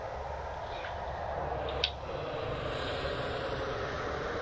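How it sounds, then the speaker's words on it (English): Aircraft engines of torpedo bombers in the naval combat game World of Warships Legends, a steady droning hum held throughout with a brief sharp blip near the middle. "Torpedo bombers, you're up."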